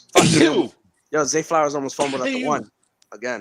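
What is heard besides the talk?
sneeze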